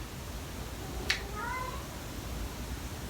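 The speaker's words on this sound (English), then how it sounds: "there's cat drama going on." Cats meow and yowl in a brief squabble, one sharp cry followed by a few drawn-out wails, fairly faint and distant over a quiet background hiss.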